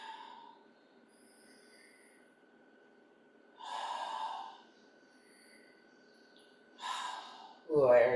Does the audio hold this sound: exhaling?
yes